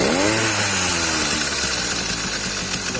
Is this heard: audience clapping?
no